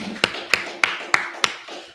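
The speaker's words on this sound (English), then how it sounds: "Let's clap it up." Five sharp hand claps spaced evenly about a third of a second apart, close and crisp, opening a law class in Fayetteville, North Carolina, with faint room noise between them.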